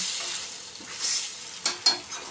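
Egg tomato chutney sizzles in a pan while a spoon stirs it, giving a bright steady fry hiss broken by a few scraping strokes, close up with no talking.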